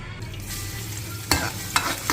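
Egg-coated kebabs frying in a pan, with a soft steady sizzle and a few sharper scraping or stirring bursts near the end.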